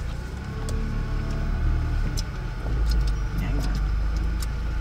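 Steady low rumble of a car engine idling, heard from inside the vehicle cabin on a residential drive in Paradise Valley, continuous and fairly loud throughout.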